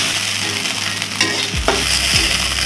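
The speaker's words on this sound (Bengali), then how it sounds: "মাছটা আমি ভেজে নিচ্ছি, বেশি ভাজতে হবে না, হালকা করে ভেজে নিলেই হবে।" Pieces of shoal fish fry lightly in a pan, giving a continuous close sizzle with a couple of brief scraping stirs near the end and no voices.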